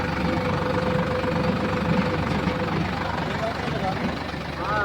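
A tractor engine idles steadily on a farm while bamboo for tomatoes is brought in and a pipeline is covered, a constant low rumble with a faint whine, with people talking over it.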